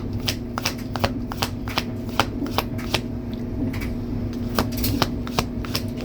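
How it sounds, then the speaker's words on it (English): Tarot cards are shuffled by hand over and over, each riffle and slide giving a crisp papery flutter in an uneven rhythm, close up and fairly quiet over a low steady background hum. "I take forever to shuffle, but I like to make sure I get a good shuffle for you guys"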